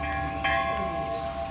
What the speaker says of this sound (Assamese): মন্দিৰৰ ঘণ্টাই পবিত্ৰ কৰি তোলে মন।